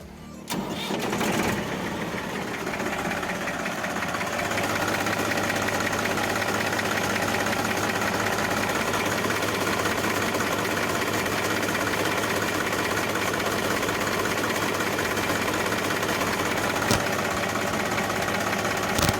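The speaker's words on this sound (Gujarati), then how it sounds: "hydraulic gearbox engine running condition" A tractor's diesel engine cranks and starts, then settles into a steady, loud idle that chugs on without pause, no voices.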